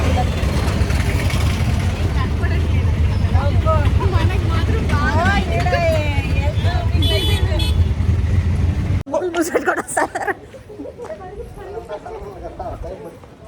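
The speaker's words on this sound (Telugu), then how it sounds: "ఆటోలో ట్రావెల్ చేస్తున్నాం" A ride inside an auto rickshaw on a night trip to a festival, with a steady engine drone and road rumble under continuous talk from family passengers, then a sudden drop to quieter street noise with horns.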